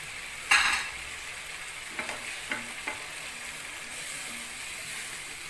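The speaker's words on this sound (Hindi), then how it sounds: "मसाला जितना भुना होगा उतना ही अच्छा टेस्ट आएगा।" Masala spice paste frying in a pan for a beef kofta curry, a quiet steady sizzle with a sharp scrape early on and a few lighter stirring knocks afterward, close and without talk.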